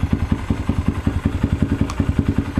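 A 2022 Honda Grom motorcycle engine idles close by with a steady, loud, lumpy thumping pulse of regular low beats, with no one talking over it.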